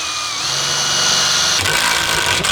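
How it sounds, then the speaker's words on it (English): A power drill drives into timber, whining up in pitch and running steadily, then stops briefly and bites in again with a short burst near the end. "I'm just going to drill this in."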